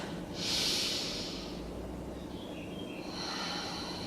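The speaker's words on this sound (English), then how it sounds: "deep breath in and out" Deep breathing during a beginner yoga session: a strong, hissing inhale swells early, then quieter steady airflow and a second breath toward the end, close and alone without talk.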